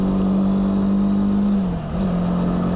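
A Honda CB300R motorcycle engine drones steadily under load, its pitch dipping briefly during a gear change before settling again, loud and close with wind noise and no talking.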